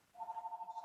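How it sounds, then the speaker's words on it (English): A phone rings in the background of an indoor recording, a steady pulsing electronic tone that warbles quickly and holds for most of a second with no talking over it. "excuse the fucking phone in the background"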